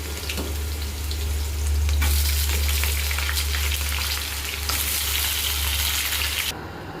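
Cumin potatoes (jeera aloo) frying in a pan in a home kitchen, a loud, steady, close sizzle with crackling bursts that swells and eases as the pan is stirred, with no talking.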